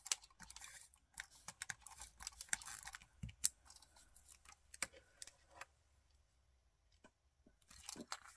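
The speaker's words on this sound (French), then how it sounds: "Je vais venir couper les excédents." Scissors snip excess paper from a collage art trading card: sparse, quiet, crisp cuts arrive in irregular bursts, with a few louder snips and long near-silent gaps.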